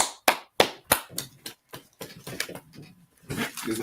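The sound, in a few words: clapping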